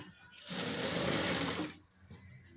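A sewing machine stitches knit fabric held under its presser foot, running in a single loud, close burst of about a second and a half before stopping, with quiet room noise on either side.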